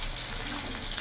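Potatoes fry in hot oil seasoned with salt and turmeric, giving a steady close sizzle throughout with a brief clatter of stirring near the end.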